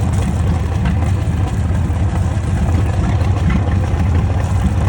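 A 1986 Sea Ray Pachanga boat with a 454 engine idling while it warms up during winterization, a loud steady low rumble close by with no break.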